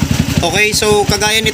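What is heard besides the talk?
motorcycle engine idling with aftermarket pipe, lean mixture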